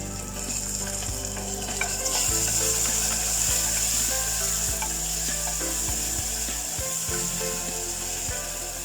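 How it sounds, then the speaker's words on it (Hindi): Chopped tomato fries in a pan for chole, giving a loud, steady sizzle with scraping stirs and a few sharp knocks from the utensil against the pan. "अब इसमें जाएगा एक टमाटर चॉप किया हुआ।"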